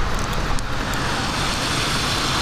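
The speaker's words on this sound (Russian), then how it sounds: "сейчас машина будет проезжать, вы услышите" A car passes on a road just beneath apartment windows, a broad, loud rumble and whoosh of tires and engine that fills the short stretch, heard close without any talk.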